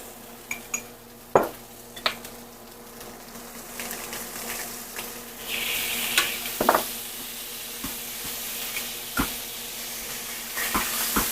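Beef stir-frying in a hot pan with a steady sizzle, broken by repeated sharp clacks and scrapes of a utensil against the pan, fairly close and with no talking.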